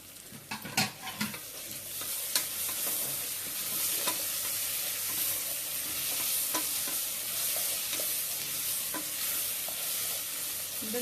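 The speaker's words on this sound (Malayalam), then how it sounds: "ഇത് നന്നായിട്ടൊന്ന് അതിനെ വഴറ്റണം." Onion, curry leaves and green chillies sauté for a mutton curry, a steady close sizzle broken by repeated scrapes and clinks of a spoon stirring through the pan, with no voices.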